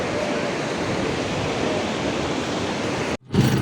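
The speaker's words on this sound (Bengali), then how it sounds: "তো বন্ধুরা দেখুন কি ঢেউ" Sea waves breaking at Kuakata beach give a loud, continuous roar of surf, close and unbroken, with a short gap and a wind buffet at the very end.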